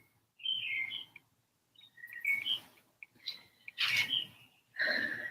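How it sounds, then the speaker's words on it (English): Small bird chirping in short bursts of bright tweets with gaps between them, fairly faint and a little distant, no talk over it. "the bird is chirping"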